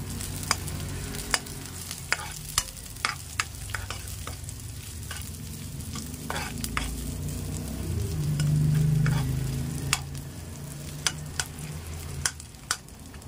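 Onion and ginger sauté in a pan, a steady frying sizzle broken by sharp clicks of a utensil stirring and scraping, with a brief louder hiss near the end; no talking.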